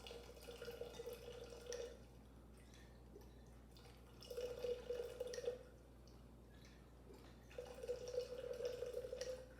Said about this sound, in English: Do you hear that pour?